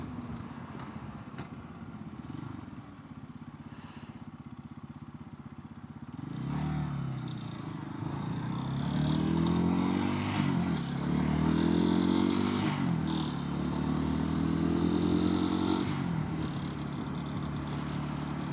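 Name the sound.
motorcycle riding along a road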